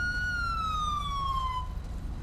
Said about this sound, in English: can you kill that siren?